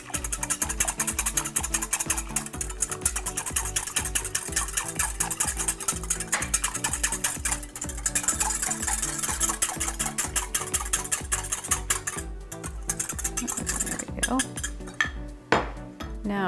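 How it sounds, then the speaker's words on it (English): A metal whisk beating rapidly against the bottom and sides of a pot while stirring miso into soup, making close, clinking, scraping strokes in a fast steady rhythm with no talk. "Add just a little bit, and then we're going to whisk it in there."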